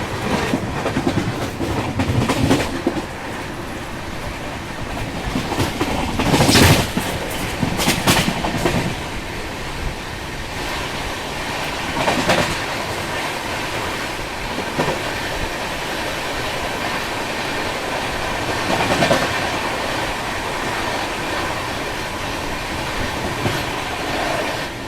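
The Jaipur Delhi double decker express runs on its rails, heard from aboard as a continuous loud rolling rumble with clickety-clack wheel beats and occasional brief squealing bursts.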